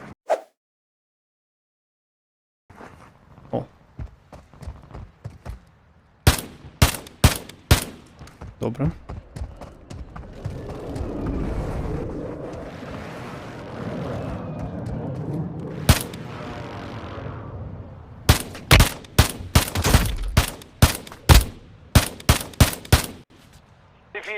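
Sniper rifle shots crack in a war video game, sharp isolated reports spaced apart, then a rumbling stretch of battle noise, followed by a rapid cluster of loud shots near the end, with a voice talking briefly.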